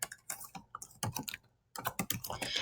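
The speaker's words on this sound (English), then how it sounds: "so I'm going to go ahead and type in childcare." Quick bursts of key presses clatter on a computer keyboard while entering text into a Google Sheets spreadsheet, close and crisp, broken by a short pause partway through.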